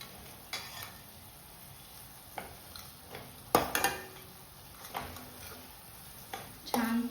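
Spices sauté in hot oil for a Konkan-style wet cashew curry, a soft continuous sizzle broken by several sharp scrapes and clinks of a spoon stirring against the pan.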